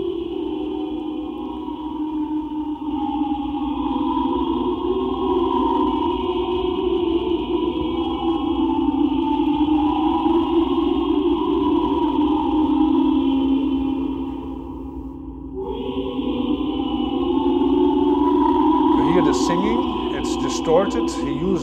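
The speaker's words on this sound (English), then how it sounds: "All sorts and kinds of reverb and echo and tape loops to give an impression of this Zar ritual and the ritual music" Electronic tape music from 1944 evoking a Zar ritual, built from wire recording with reverb, echo and tape loops: a dense, sustained droning texture with layered tones, a brief dip near the end, then sparkling higher bursts.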